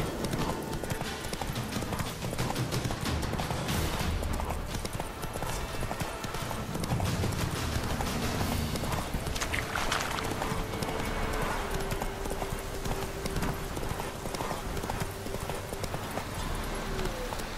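Steady rhythmic hoofbeats of a galloping horse in the video game The Witcher 3 continue throughout, loud and close, with a brief voice partway through.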